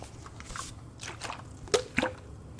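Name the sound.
ASMR water sounds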